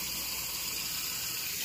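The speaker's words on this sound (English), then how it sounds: "I'm running the warm water for my" Warm water runs steadily from a kitchen tap, a continuous close hiss and gush with no voices.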